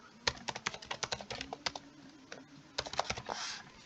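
Typing on a computer keyboard: a quick, close run of crisp key clicks, a brief pause, then another burst of keystrokes.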